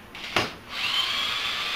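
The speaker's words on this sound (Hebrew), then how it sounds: "ואנחנו קודחים את כל היתר." A power drill bores holes into a wall to mount an IKEA shelf with a hidden bracket: a brief click, then a steady high-pitched whirring whine that runs to the end.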